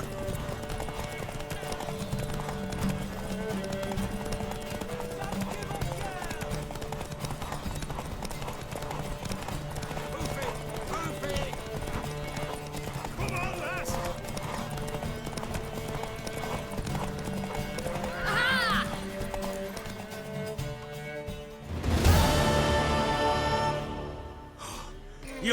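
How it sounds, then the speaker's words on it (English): Hooves clip-clop in a steady galloping rhythm during a horse race in The Witcher 3, with music underneath and a loud neigh bursting out near the end. "Worthy of the best horse."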